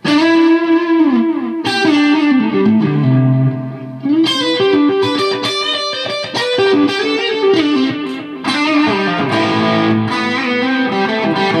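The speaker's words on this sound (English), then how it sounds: "here's some distortion with that." A heavily distorted electric guitar plays sustained chords and riffs through a Roland DC-30 analog chorus-echo, gritty and loud, with a shimmering, processed tone and no voices.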